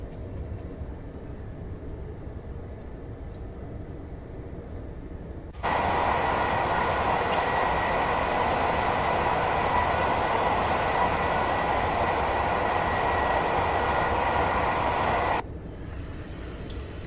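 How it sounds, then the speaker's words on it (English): Class 142 Pacer diesel unit in Train Sim World pulling away from Cottingley station on the Leeds to Manchester Victoria route via Huddersfield, a steady loud engine and rail roar rising abruptly, holding for about ten seconds, then dropping back to a quieter hum. "we passed the first stop at Cottingley, as the 142 pacer pulls away"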